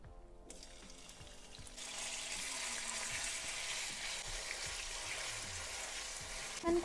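Chicken fries in hot oil in a wok, a soft sizzle that swells after a quiet start and holds steady with faint scraping and clinks, fairly distant and low in level.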